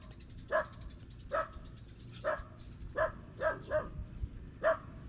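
A dog barks repeatedly outdoors near Taal Lake, six or seven short, fairly faint barks spaced about a second apart with a few quick doubled yips, and no one speaking.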